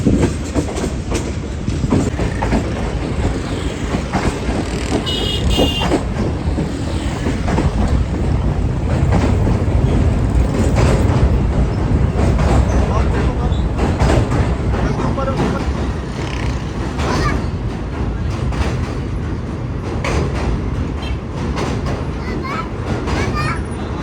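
Moving passenger train on the Awam Express heard from inside a refurbished coach, giving a loud continuous rumble with steady rhythmic clatter of wheels on the rails, and voices faintly audible beneath.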